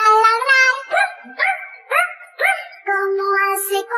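Singers in a Spanish-language children's song imitate a puppy barking: a run of high, cartoonish woofs and yips in a quick rhythm, close and loud, set among sung notes.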